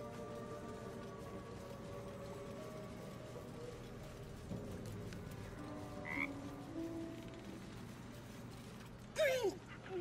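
Frogs croak steadily through a Baldur's Gate 3 swamp scene, a dense mid-level chorus with a few louder close calls near the end, over faint game ambience.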